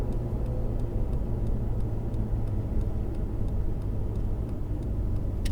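A Ferrari 488 GTB on a race circuit gives a steady, low engine rumble as it slows toward the pits, heard from inside the car with a faint regular ticking over the drone and no talk.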